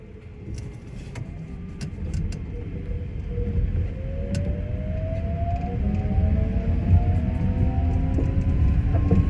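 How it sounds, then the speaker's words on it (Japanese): A New Shuttle guideway train departs in snow, with rising motor whine in several climbing tones over a steady rumble growing louder as it accelerates, heard from inside the rear of the train. "電車発車します。ご注意ください。"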